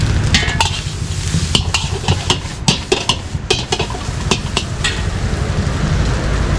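Noodles and rice tossed together in a hot pan, a continuous loud sizzle broken by sharp metallic scrapes and clinks of the spatula stirring at an uneven pace.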